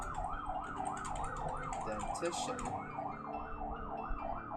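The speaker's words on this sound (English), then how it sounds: "there's like this ambulance outside" An ambulance siren passes outside, wailing steadily in a rising and falling cycle, fairly loud and continuous beneath a brief spoken word indoors.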